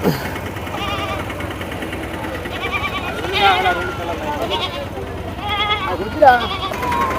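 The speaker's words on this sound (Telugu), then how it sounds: "ఆరు మేకలు ఆరు పిల్లలే ఉన్నట్టున్నాయి పిల్ల మేకలు ఇవి" Goats and young kids bleating at a livestock market, several short bleats rising above continuous talking, with a low engine-like rumble underneath.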